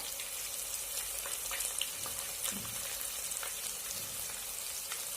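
A steady, soft sizzle of onions frying in oil runs throughout, with faint scattered crackles and a few light kitchen knocks, close and unbroken.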